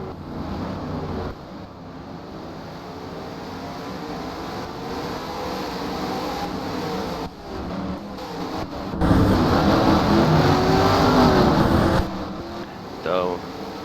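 Race cars in a 2008 touring car race at Sonoma, a Mitsubishi leading a Volkswagen and a Chevrolet, roar past as a steady broad engine drone that swells louder near the end, with wind buffeting the microphone.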